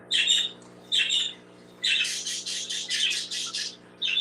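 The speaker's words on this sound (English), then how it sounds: "If those birds are too loud" Pet birds squawking loudly in a room, shrill repeated calls in short bursts, then a longer run of overlapping squawks near the mic over a steady low hum.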